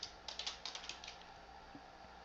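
A quick burst of computer keyboard keystrokes clicks in an uneven rhythm, faint and close, then trails off into quiet room hum.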